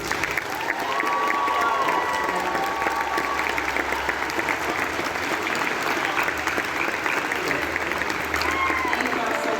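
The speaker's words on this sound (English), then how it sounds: "let's give a big round of applause" A convention panel audience at a Star Trek Discovery session applauds steadily in a large hall, with a dense, sustained wash of clapping and some crowd noise, and a voice faintly heard at times.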